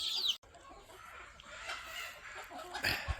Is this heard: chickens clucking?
yes